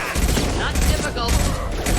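Gunfire in Mass Effect 2, a dense fusillade of close, loud shots blending into a continuous rattle, with voices mixed in.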